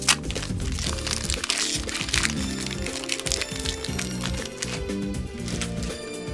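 A Yu-Gi-Oh booster pack is torn open and handled, giving continuous crinkling and crackling of foil wrapper close by, with sharp crunchy bursts throughout and no talk.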